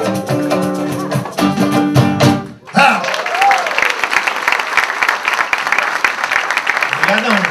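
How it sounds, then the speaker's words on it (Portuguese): An audience at a samba performance bursts into applause and cheering right after music stops, a dense, sustained clapping crowd with voices rising over it. "Vocês anteciparam o aplauso de uma maneira muito carinhosa."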